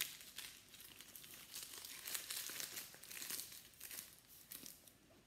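A plastic piping bag filled with royal icing being folded over, soft crinkling and rustling in short bursts, faint and close with no voices.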